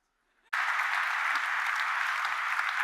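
Sudden burst of audience cheering and applause from a seated crowd at a mountaineering speaker's talk, starting abruptly after a near-silent moment and holding steady and loud throughout.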